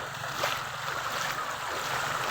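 Strong flood water current rushing steadily, a dense continuous wash of turbulent noise with no voices.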